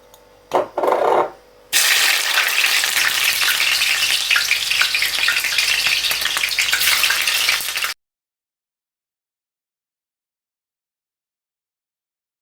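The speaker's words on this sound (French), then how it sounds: "notre huile est en train de chauffer déjà. Je vais donc mettre les oignons." Onions go into heated oil for meatballs with spinach and set off a loud, close, continuous sizzle after a few brief knocks and stirring sounds. The frying runs for about six seconds and then cuts to silence.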